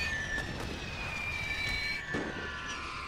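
Mortar shell explosions in The Great War video game, set on the Serbian front: a steady rumbling barrage of blasts and crackling debris, dense and continuous, with a sharper burst near the end.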